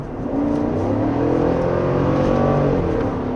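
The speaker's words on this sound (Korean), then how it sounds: "제가 한 60까지 줄이고 100까지 가속을 해볼게요" A Chevrolet Tahoe SUV accelerating hard from 70 to 100 km/h, its engine drone rising steadily in pitch over a constant road and wind roar heard from inside the cabin.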